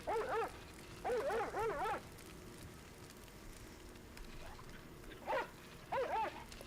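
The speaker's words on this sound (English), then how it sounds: "Oh, it's just a barking sound effect?" A dog barks in a LittleBigPlanet 2 sound effect: a quick burst of barks, then two more clusters, then two short barks after a quiet stretch, fairly close against a low background hum.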